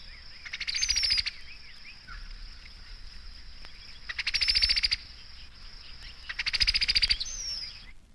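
Harsh, rapid chattering bursts from a female cowbird, three of them spaced a few seconds apart, over a constant high-pitched insect-like drone.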